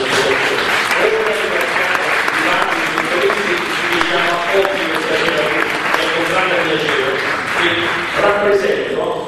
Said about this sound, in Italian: Applauso a questi ragazzi che sono